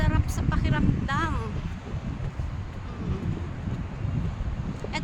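Steady wind rushes and buffets across the microphone outdoors at Taipei Expo Park, Taiwan, a constant low roar with a voice briefly speaking at the start.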